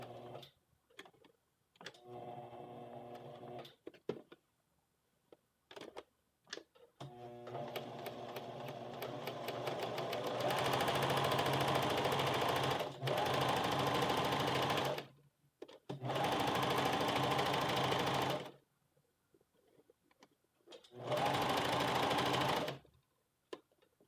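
A sewing machine stitches a shirt collar at stitch length 2, first in short stop-start bursts stitch by stitch, then in several longer steady runs separated by pauses, close and clear.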